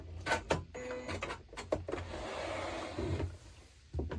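A sewing machine stitches along fabric and reverses to backstitch at a marked point, rapid mechanical whirring in short bursts and a longer steady run, heard close and alone.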